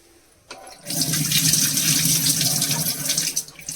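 Water from soaked basmati rice drains out in a sudden, loud, rushing pour that starts after a moment of quiet and keeps splashing steadily, close by, for a few seconds.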